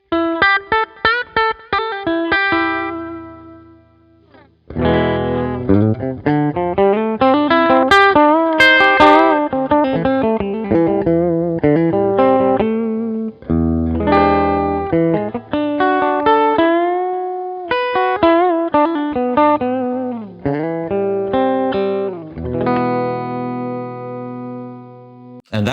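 Electric guitar played through a Synido Live Dock audio interface, a continuous run of bright effected notes and chords with chorus-like shimmer. It is loud and close, with brief pauses between phrases.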